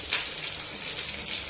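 Dried red chillies, garlic cloves and curry leaves frying in hot oil in a pan, a steady close crackling sizzle with a brief louder spit near the start.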